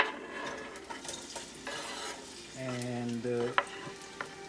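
Onion and garlic stir-frying in oil in a pan for mutton pulao, a steady soft sizzle broken by scraping stirs and a few sharp utensil knocks, with a brief voice murmuring.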